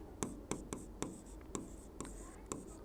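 Chalk or marker tapping and scraping on a board during a chemistry lesson, a steady run of sharp strokes about every half second, close and clear with no voice over it.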